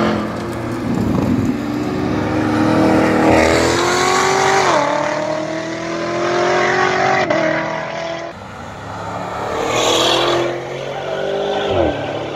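A ZR1 race car's exhaust blares loudly on a racing track, its engine note rising and falling through repeated revs and shifts, with tire squeal mixed in and little else heard.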